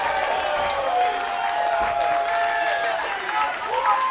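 A wrestling arena crowd in Troy, Missouri cheers and claps in a steady, full roar with a few whistles, while a commentator talks over it.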